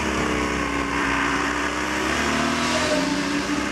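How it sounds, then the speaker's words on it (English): Onboard a turbo diesel race car at the 2006 24 Hours of Le Mans, a steady, loud rushing drone plays throughout, with wind noise largely covering the engine note. "See if you can hear the engine in this turbo diesel."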